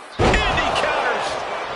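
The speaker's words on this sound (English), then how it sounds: "Up on the shoulders and then launching their opponent across the ring" A WWE 2K25 wrestler is hoisted onto an opponent's shoulders and launched across the ring, landing with a heavy slam and thud. Commentary talks over the impact.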